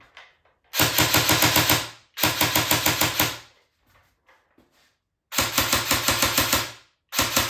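An LCT G3 SG1 electric airsoft rifle on an 11.1 volt LiPo battery fires rapid full-auto bursts, four long strings of buzzing clicks separated by brief silences, loud and close.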